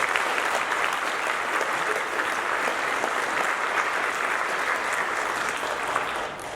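An audience at a high school band concert claps steadily for the middle school band program, a dense, even wash of applause that runs throughout and tapers slightly at the close.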